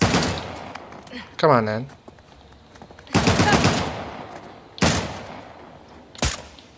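Bursts of gunfire from the Uncharted: The Lost Legacy video game, several loud clustered volleys spaced a second or two apart, with a short spoken line between them.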